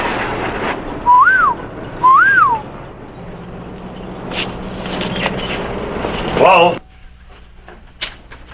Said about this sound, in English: He's here. That was his whistle.